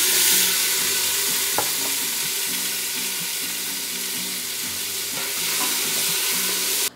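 Chopped tomatoes hitting hot oil in a soup pot for shrimp broth, a loud steady sizzle and hiss with a few clinks of stirring, close and continuous.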